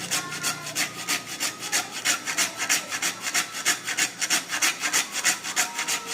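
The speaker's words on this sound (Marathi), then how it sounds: "आपली आलं किसण्याची किसणी आहे याच्यातच मी थोडी जाळफळ किसून आणि टाकतो" Nutmeg scraped over a metal ginger grater in a home kitchen, a steady rhythmic rasping stroke repeating roughly three to four times a second, close and fairly loud with no talking.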